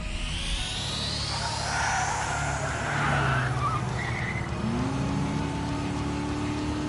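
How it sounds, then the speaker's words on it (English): A turbocharged car in the video game Trails Through Daybreak, with a loud whooshing engine and tire squeal that sweeps and rises, then a sustained whine near the end. "Is that a turbocharger?"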